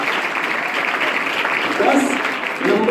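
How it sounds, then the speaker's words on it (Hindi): Steady, lively applause from an audience fills a school science and maths club quiz competition after a correct answer, swelling slightly toward the end with a few voices mixed in. "जोरदार ताली के लिए"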